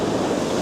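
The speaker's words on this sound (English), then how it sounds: "It's very windy." Steady roar of wind buffeting the microphone, with broad noisy rush and a low rumble throughout, no voices.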